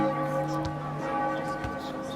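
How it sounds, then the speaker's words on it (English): Church bells ring in Shepherd's Bush during free throws at a basketball game, a sustained metallic toll with ringing overtones, moderately loud alongside faint crowd and voices. "Got the church bells going off during the free throws."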